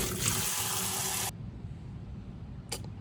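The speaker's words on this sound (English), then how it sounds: "I'm going to put them in the sink and wash them through 2 or 3 rinses till we get them good and clean." Running water pours into a kitchen sink as green beans are rinsed. A loud, steady rush lasts just over a second, then cuts off, leaving faint trickling and one brief splash.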